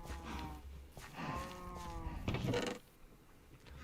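Cattle mooing in a farm-building video game, one long low drawn-out moo with a rising, wavering tone, fairly faint and alone, followed by a short rustling burst and quiet background.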